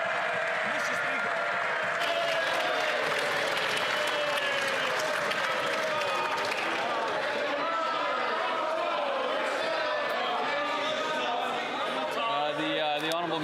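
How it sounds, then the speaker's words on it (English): Members of a legislature applaud during parliamentary Question Period, producing sustained applause and desk-thumping that carries on for a long stretch with crowd chatter and voices underneath. "they're going to regret their applause in a moment"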